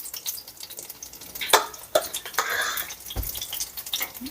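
Apple fritters are lowered into hot frying oil, setting off a bright crackling sizzle with sharp spatters and clinks from the basket and utensils, close and fairly loud.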